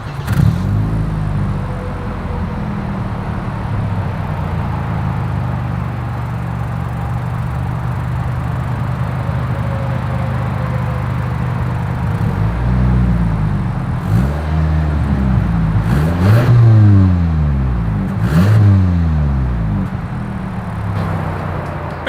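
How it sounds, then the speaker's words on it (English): A 2022 Toyota Camry V6 idles with a steady low exhaust drone, then gives several sharp revs in quick succession that climb and drop back, recorded close to the exhaust with no talking. "As always, here is that exhaust clip."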